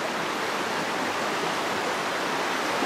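Spring water flows in a stream at Yoro Valley as a continuous, even hiss of running water, close and steady with no voices or other sounds.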